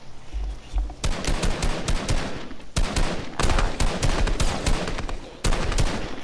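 Bursts of rapid automatic gunfire from the video game Fortnite, loud and close, with dense volleys broken by brief pauses.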